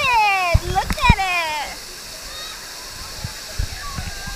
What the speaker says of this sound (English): They're going under the waterfall.